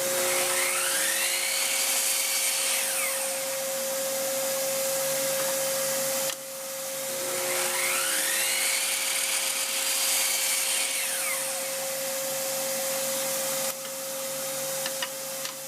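A power tool whines steadily as it cuts the corners off glued-up wood pieces for a wakeboard rack, in two long passes with a rising and falling pitch sweep and a constant tonal hum, no talk.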